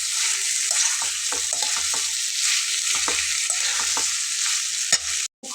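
Fish sautéing with lentils, potato and green chillies in a pan, a steady high sizzle broken by repeated scraping stir strokes, with a sharp clank near the end.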